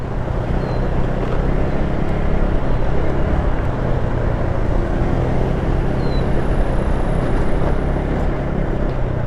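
A Yamaha Mio Soulty scooter on a long ride gives a steady engine drone mixed with heavy wind rush, continuous and unbroken, with no talking.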